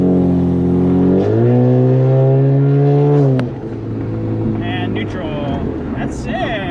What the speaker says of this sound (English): Now neutral. Rev it.